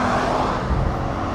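Mercedes-Benz GLE 450 4MATIC SUV accelerating hard with stability control switched off, a steady loud engine and road roar with a deep low hum that holds constant throughout.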